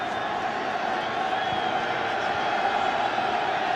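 Ravens home crowd in a cold, rainy stadium during a 2009 game against the Lions, a steady far-off roar of cheering that holds at an even level throughout with no clear peaks.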